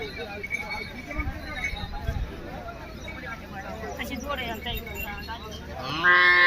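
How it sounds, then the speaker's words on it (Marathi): Cows, including Jersey cows, at a livestock market, heard as low moos rising through a busy background of crowd chatter, with people talking nearby and a louder burst of noise at the end. "आता म्हशीच्या बाजारानंतर आपण या ठिकाणी गाईंचा बाजार पाहूयात गाई देखील अनेक या ठिकाणी विक्रीला आलेल्या आहेत"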